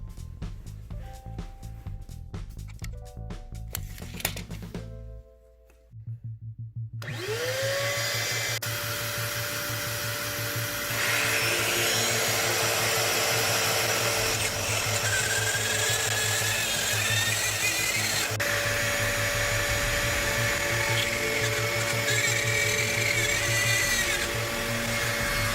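Handheld power tool set to about half-inch depth cutting into drywall, a loud continuous high whine that starts after a brief pause and holds steady with shifting pitch as the cut proceeds.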